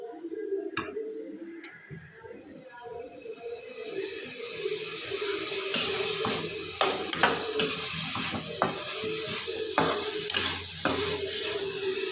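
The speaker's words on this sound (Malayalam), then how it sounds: "ഇങ്ങനെ ഇളക്കി കൊടുക്കണം" Crab curry is stirred in a pan, giving soft scraping and bubbling with scattered sharp clinks of a spoon against the metal, close and irregular.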